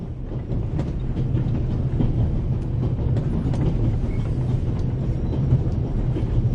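Train carriage clattering steadily along the rails, a continuous loud rumble with a low hum and faint rhythmic clicks throughout, no voices.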